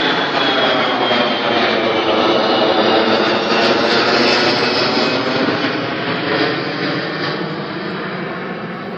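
Jet airliner at Phoenix airport, a loud continuous broadband engine roar that holds steady for several seconds, then eases slightly as the plane moves off.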